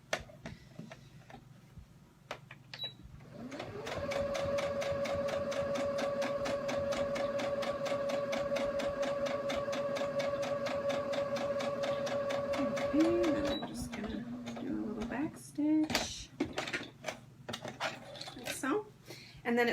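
A sewing machine stitching elastic on boys' boxer shorts runs in a fast, even mechanical whir for several seconds, then stops into scattered clicks and handling noises, with light talk nearby.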